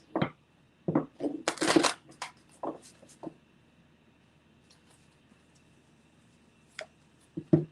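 Cards drawn and shuffled from a regular tarot-style deck in a reading, heard as a few short papery rustles and snaps close up, with faint ticks and quiet gaps between them.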